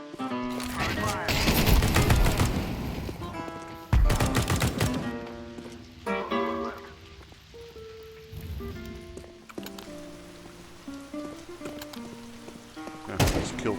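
Bursts of automatic gunfire in a video game set in Italy on a rainy night, loud rattling volleys in the opening seconds that thin into scattered shots, mixed with game music and effects.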